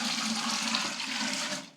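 Water pours steadily into an old-fashioned Burco boiler already holding about 10 litres, a continuous close rushing splash that runs unbroken and tails off at the end.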